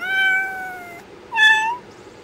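A domestic cat gives two clear meows, a long drawn-out call followed after a brief pause by a shorter rising one, close and loud with no talking.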